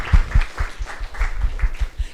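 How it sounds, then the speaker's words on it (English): A round of applause from a conference audience welcoming a guest speaker, heard as a short burst of irregular clapping with uneven rhythm, moderately loud across about two seconds. "Help me welcome him with a round of applause."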